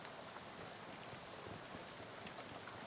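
Rain in the video game Shadows over Loathing falls as a faint, steady hiss with soft scattered drops and no speech.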